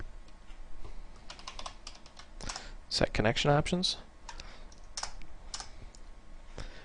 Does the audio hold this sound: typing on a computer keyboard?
yes